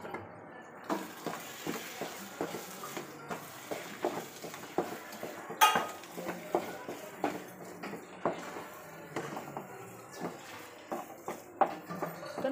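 A spoon stirring masala dosa filling sprinkled with garam masala in a pan: repeated soft scrapes and light clicks in an uneven rhythm, fairly faint and close, with no talking.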